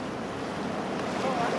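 Karuma Falls waterfall in Uganda roars as a steady, broadband rush of water, loud and continuous, mixed with wind buffeting the microphone.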